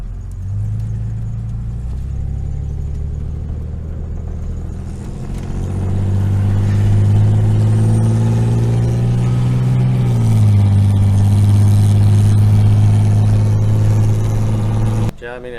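A 1988 Jeep Cherokee drives with a loud, low engine drone that climbs in pitch and then drops as the transmission shifts, heard from inside the cabin.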